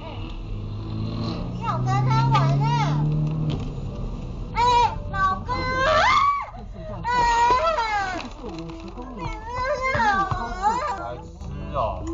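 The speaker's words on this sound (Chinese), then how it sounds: "有非常多网友纷纷歪楼讨论女乘客的尖叫声" A woman passenger screams and wails inside a car as it skids on a waterlogged road and strikes a divider, her cries wavering and shrill in repeated bursts over engine hum.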